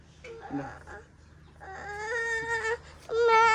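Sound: chickens clucking while being caught

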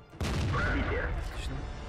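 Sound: tank cannon firing in the video game World of Tanks

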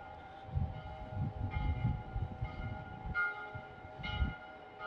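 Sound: church bell ringing at 6:30 on Avenida Brasil

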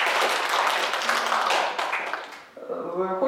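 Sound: audience applause for a lecturer

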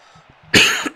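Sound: cough

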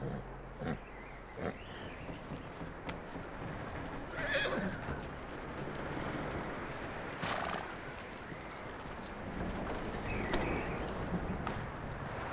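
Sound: horse neighing and hooves, video game

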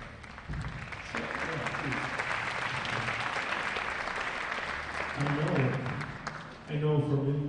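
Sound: audience applause at a high school concert

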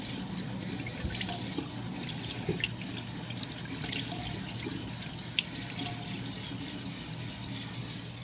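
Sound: water running from a tap

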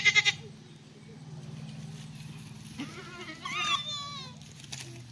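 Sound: goats bleating

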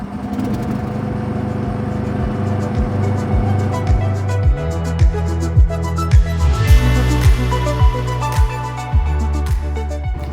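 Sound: NEX GROUP NANO mini excavator engine running

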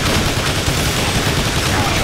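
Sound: gunfire in Transformers War for Cybertron video game

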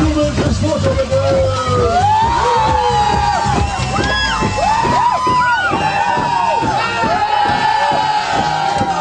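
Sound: crowd cheering for a photo at a sports award ceremony

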